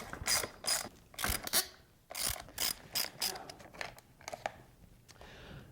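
Allen wrenches ratchet and click while handguards come off a motorcycle, a string of short metallic bursts in uneven rhythm, close and fairly quiet.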